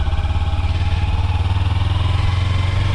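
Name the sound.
Kawasaki Ninja 300 motorcycle engine while riding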